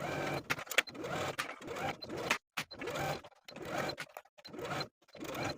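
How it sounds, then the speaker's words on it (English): A home sewing machine stitches around a dress facing in short, quiet bursts of whirring separated by brief stops, close by and without voices. "we're going to sew all the way around from center back to center back with a 1/2 inch seam allowance"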